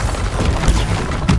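A Bombarda spell blast in Hogwarts Legacy, a loud, rumbling explosive boom with crashing, splintering debris, followed by a second sharper thump near the end.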